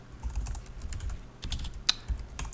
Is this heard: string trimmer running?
no